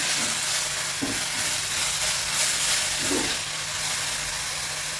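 Carrots sizzle in hot oil in a pan for a carrot thoran, a steady close hiss punctuated by a few soft stirring thumps and scrapes.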